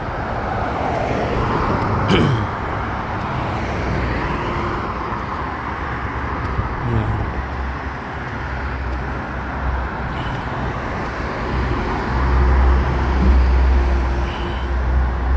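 Busy street traffic in Saudi Arabia around two in the afternoon, many cars and heavier vehicles passing in a continuous loud roadway roar with low engine rumbles swelling near the end.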